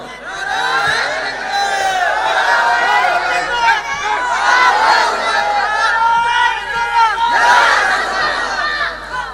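A large crowd at an Islamic religious sermon shouts a slogan in loud unison, with voices rising and falling in repeated chant bursts that fill the whole stretch without pause.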